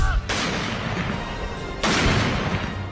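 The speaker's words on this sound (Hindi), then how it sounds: "जनरल बिपिन रावत को मुखाग्नि देने से पहले 17 तोपों की सलामी दी गई" Artillery guns firing a 17-gun salute at the military funeral of General Bipin Rawat, with two loud booming blasts each followed by a long rumbling roar and crowd noise.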